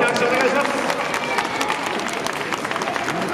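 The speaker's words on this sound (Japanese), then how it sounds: "大きな拍手お願いします。" Crowd applause at a boat race rider introduction for the GII Legend Cup 2019 final, a dense patter of clapping running throughout under a voice speaking over a PA.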